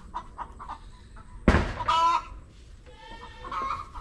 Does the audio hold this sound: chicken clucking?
yes